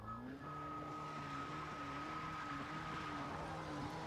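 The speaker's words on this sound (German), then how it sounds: "Du hörst richtig, wie die Reifen am Abradern sind." Car tires spinning on a road in Far Cry 3, a steady engine drone with a sustained whine from the wheels that runs unbroken at even loudness from start to finish.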